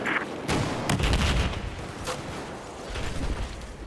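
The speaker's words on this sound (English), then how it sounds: "Got gunfire going on upstairs." A Battlefield 4 multiplayer battle rumbles with several sharp gunshots and heavy booming reports over a constant dense wash of distant combat noise.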